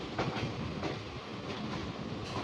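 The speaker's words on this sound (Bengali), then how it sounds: "বেরিয়ে গেলাম আন্দুল স্টেশন থেকে লোকাল ট্রেনে" A local train pulls out of Andul station at night, its steady rumble and rhythmic wheel clatter filling the carriage continuously, close and even, with no voices.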